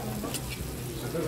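Sisig made of chopped meat and offal with vegetables, chili and a cracked egg sizzles on a hot skillet. The steady crackling hiss sits under restaurant chatter.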